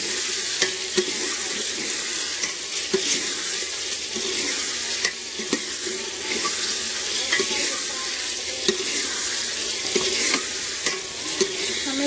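Quail frying and being stirred in a hot pan, a continuous loud sizzle broken by repeated scraping and clinking strokes of a spoon against the pan, no talk.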